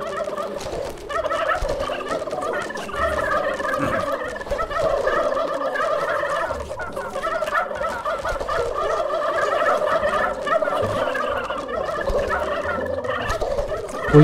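Turkeys gobbling in the video game Dungeons 3, a continuous chorus of overlapping gobbles warbling throughout, loud and busy with no pause.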